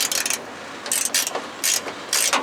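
A ratchet tightens mounting bolts on a Lasfit 3-inch LED pod ditch light, sounding in four or five quick bursts of crisp clicking with short pauses between, close and clear with no talk.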